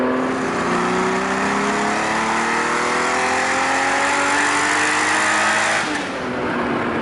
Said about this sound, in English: It's just one of those great sounding engines.